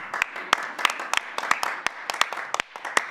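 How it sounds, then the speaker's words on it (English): Applause from a conference audience, scattered individual claps ringing out sharply over a softer bed of clapping and faint voices, moderately close and irregular in rhythm. "Can we have a round of applause for the audience?"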